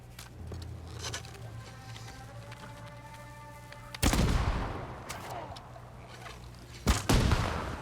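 Two loud explosive blasts from the video game Ghost of Tsushima burst out about three seconds apart over a low game soundscape, each with a sharp onset and a long rumbling decay.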